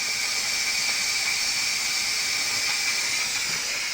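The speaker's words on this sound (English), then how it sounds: "it's our pressure cooker we got for Christmas" A pressure cooker, a Christmas gift, hissing steam in a steady, loud, unbroken jet that holds level from start to finish, with no talking over it.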